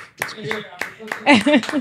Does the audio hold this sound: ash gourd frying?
no